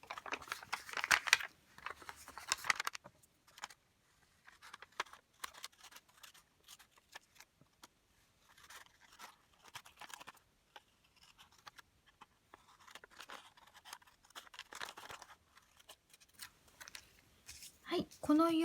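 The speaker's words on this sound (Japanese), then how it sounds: "この折り筋に沿ってハサミで切り取っていきます。" Scissors snip through folded origami paper, cutting it into long strips for lucky stars; soft, scattered snips and light paper rustling at close range, with a brief louder crinkle near the end.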